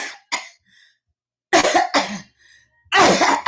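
A voice imitating coughing: a few short, harsh cough bursts, then a pause, then two louder, rougher coughs close to the ear.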